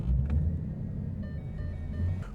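A Ford Mustang engine holds a burnout with a steady, deep rumbling drone, loud and close, swelling slightly at the start and end.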